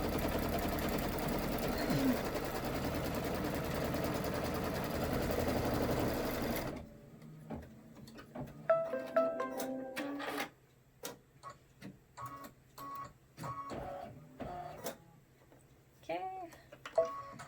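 An embroidery sewing machine runs a placement stitch for a Halloween party hat, its rapid mechanical whirring filling the first seven seconds loudly and alone, then giving way to scattered ticks and clicks.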